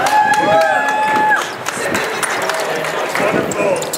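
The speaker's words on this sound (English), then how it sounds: "give him a welcome round of applause." A rally crowd at an outdoor gathering for jobs, justice and the environment in Hartford claps and cheers loudly, a dense wash of applause with a whistle-like tone early on, continuing steadily throughout.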